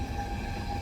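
A sleeper train rolls along with a constant low rumble and a broadband roar, heard from inside the carriage with no talk.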